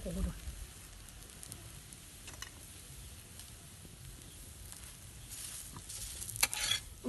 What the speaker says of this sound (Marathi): व्यवस्थित भाजून घ्यायची ती कडवाकर आपल्याला दोन्ही बाजूनी चुलीवरती